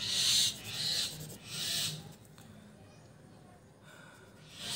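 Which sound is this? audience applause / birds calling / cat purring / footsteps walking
birds calling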